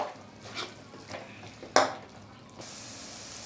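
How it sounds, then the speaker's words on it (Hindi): A spoon stirring masala for a Bihari-style fish curry in a pan, soft scraping strokes with one sharper clack, then a steady low sizzle, close and quiet with no talk. "2-3 मिनट तक हम इसको इस तरह से चलाते रहेंगे"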